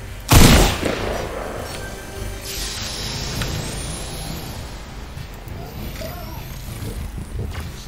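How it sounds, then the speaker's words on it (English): Gunfire in the video game Fortnite: a loud shot bursts out near the start, followed by a steady dense wash of in-game noise and faint distant shots for several seconds. "Stop shooting me"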